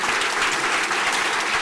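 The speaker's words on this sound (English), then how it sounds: "please, another round of applause for all of our wonderful speakers." Warm audience applause for the speakers at a book festival launch evening, a continuous dense patter of many hands, loud and unbroken, with no talking.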